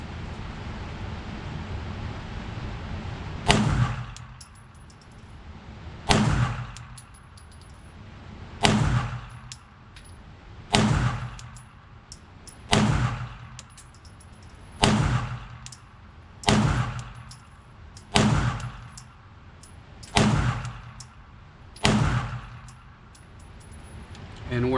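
Shots from a Shadow Systems DR920-L pistol ring out at an outdoor range, about ten loud, sharp cracks spaced a couple of seconds apart, each followed by a brief echo over low background noise.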